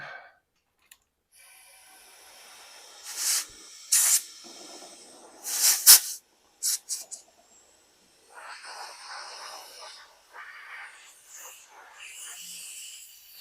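Air hissing from a leaking radiator in the cooling system of a 1926 Oakland car: several short, close bursts of spray-like hiss separated by silence, then a softer, longer hiss near the end.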